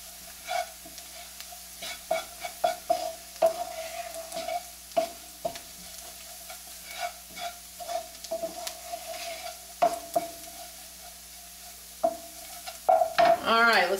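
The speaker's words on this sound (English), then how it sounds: "Give that a little bit of a stir." Shallots, garlic, fresh spices and ground allspice sizzle in a pan for pâté while a utensil stirs and scrapes against the metal in repeated clinks and taps over a steady frying hiss, close and unaccompanied by talk.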